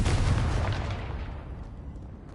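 One big blast from the Confringo fire spell in Hogwarts Legacy, a loud booming explosion that hits at once and rumbles away over a couple of seconds.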